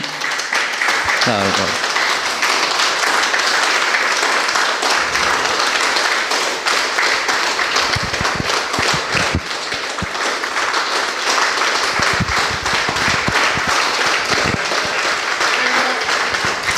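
Dense, sustained applause from an audience at a Tamil devotional discourse gathering, steady clapping filling the whole stretch with a few sharper taps near the end.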